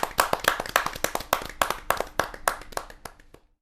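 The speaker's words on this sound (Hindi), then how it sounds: "जोरदार तालियों के साथ उसका स्वागत करिए" Audience applause at a Hindi kavi sammelan poetry gathering welcoming a poet, a burst of many hands clapping in quick, uneven rhythm that fades out after about three seconds.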